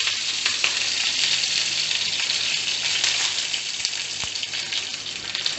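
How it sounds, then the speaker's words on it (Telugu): Mustard seeds, cumin and curry leaves sizzle steadily in hot oil for a spicy potato fry tempering, a close, continuous crackling hiss with no talk. "అవి చిట్పట్లాడాక కరివేపాకు"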